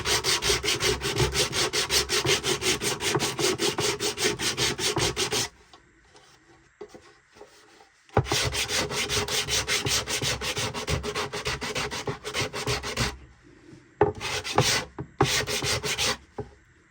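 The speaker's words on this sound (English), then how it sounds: "so use like an 80 grit to shape and then move to 120, 180 to clean up" End grain wood on a lyre head is sanded by hand with coarse grit, giving loud, close, rhythmic rasping strokes in long fast runs that break off for short quiet pauses before resuming.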